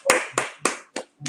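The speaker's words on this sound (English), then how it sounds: "We applaud the poet." A few separate claps or hand taps at a virtual poetry slam, about five distinct sharp hits spaced roughly a quarter second apart, close and moderately loud, with no voices.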